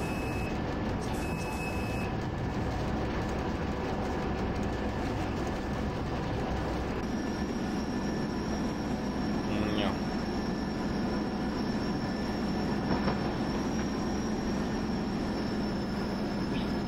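Steady rumbling of a long train running on track in RailWorks on the ČD Hanušovice–Branná line 292, a continuous close roar with faint tonal whines, no speech heard.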